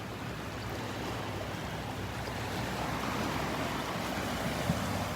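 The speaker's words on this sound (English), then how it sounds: "Some little waves breaking here around the pier." Small waves break steadily around the Naples pier on the Southwest Florida coast, a continuous wash of surf at moderate distance that swells slightly louder partway through, with no voices.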